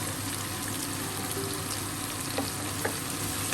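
Yam stir fry with dried chilli and curry leaves sizzles gently in a pan, a faint steady frying hiss with a few soft stirring scrapes.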